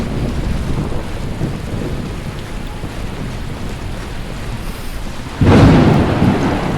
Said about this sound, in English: Boy, that storm is getting loud.